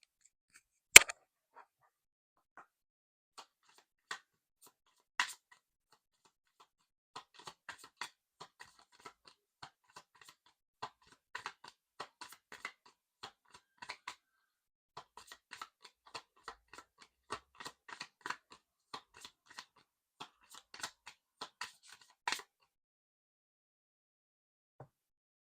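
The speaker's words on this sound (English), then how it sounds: "So, let's shuffle again." Tarot cards being shuffled by hand, a run of sparse, quiet papery ticks and flicks, close and faint, with one sharper snap near the start and no talk over it.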